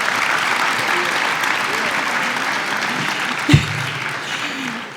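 An audience at a historical novel event in Pozuelo de Alarcón applauds with a dense wash of clapping, a brief thump and a voice briefly audible beneath it.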